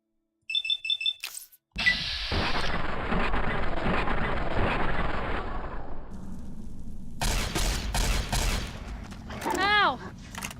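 Gunfire from Fallout: New Vegas, a dense sustained burst of shots and impacts after a brief beeping, fading then returning with sharp cracks and a swooping effect near the end.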